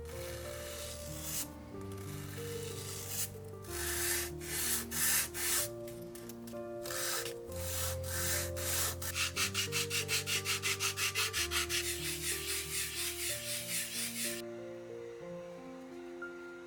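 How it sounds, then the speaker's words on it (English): Foam being cleaned up by hand with sandpaper, giving steady, close rubbing strokes under continuous tonal music, with a faster run of short rhythmic scrubs near the end. "there's a bit I have to clean up with some sandpaper"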